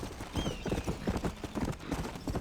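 Horse hooves galloping in the Red Dead Redemption video game, a fast, steady clip-clop rhythm close up, with no talk over it.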